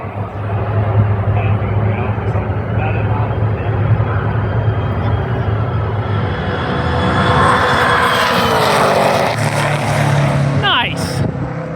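A supercharged 6.0L LS car on 18.5 pounds of boost makes a drag strip pass, heard from a distance as a loud, sustained engine roar that rises in pitch and then fades.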